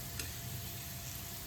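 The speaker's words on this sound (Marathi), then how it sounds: "खसखस थोडीशी तेलात परतून घ्यायची." Poppy seeds added to hot oil over browned onions give a faint, continuous sizzle with light ticking crackles throughout a brief moment.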